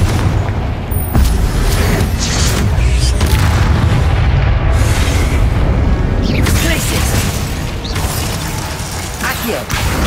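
Repeated Confringo fire-spell blasts in the video game Hogwarts Legacy, loud booming bursts and crackling impacts layered over busy mechanical combat noise, with a voice speaking through the action.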